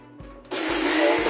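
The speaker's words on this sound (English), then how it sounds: "Put margosa stones in blender jar." An electric blender grinds hard neem (margosa) seed stones in its jar, starting with a short low whir before surging into a loud, steady, gritty roar close by.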